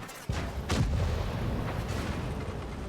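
A tank in World of Tanks fires HE shells, giving a sharp heavy cannon blast followed by another booming shot, with rumbling decay and battle ambience.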